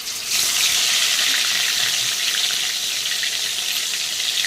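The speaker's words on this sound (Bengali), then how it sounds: "এখন কিন্তু আমি মাছটা দিয়ে দেবো, তেলটা আমার গরম হয়ে গেছে" Fish hits hot oil in a pan and fries with a loud, continuous hissing sizzle that starts abruptly and holds steady throughout, with no one speaking.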